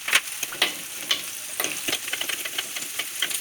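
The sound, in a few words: ginger and green chilli frying in hot oil in a pan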